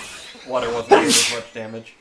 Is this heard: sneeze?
yes